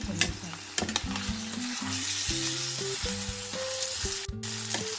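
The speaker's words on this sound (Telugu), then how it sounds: "ఇంకా వీటిని అన్నీ కలిపి ఫ్రై చేయాలి. ఒక 2 స్పూన్స్ ఆయిల్ వేయాలండి." A mixture of ingredients fries in oil, with a steady crackling sizzle and repeated spoon scraping and stirring strokes against the pan, close and alone without talk.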